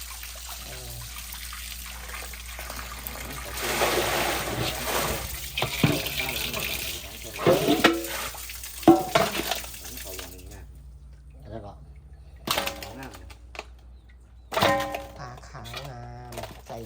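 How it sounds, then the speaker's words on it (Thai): Hot running water from a tap washes slices of tilapia fish in a sink, with trickling and splashing that come and go in bursts, interrupted by clinks and knocks and a few quieter pauses. Quiet talk is heard in between. "ล้างก็สามสี่น้ำร้อนๆนี่คุณ เปิดเมือกมันออก"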